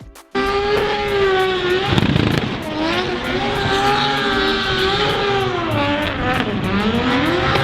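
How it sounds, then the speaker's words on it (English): Drift cars at Japfest Silverstone revving hard, engine pitch climbing and falling with shifts, loud and sustained at close range, with a hint of tyre squeal and no speech. "I made a little compilation video of the drift cars"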